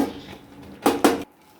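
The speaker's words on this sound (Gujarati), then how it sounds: "હવે રવાને આપણે હળવે હળવે હલાવશું અને ગેસની આંચ આપણે ધીમી કરી નાખશું" Semolina (rava) being stirred in a kadai over low heat for Gujarati shiro, with two loud close scraping strokes of a spoon against the pan in quick succession, then quiet.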